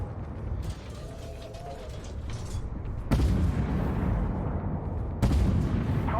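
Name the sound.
tank gun firing in the video game Armored Warfare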